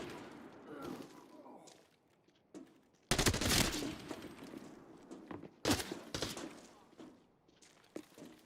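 Gunfire crackles in a video game shootout, with two loud bursts of rapid shots standing out against quieter background sounds and a few scattered single reports, while a player talks faintly.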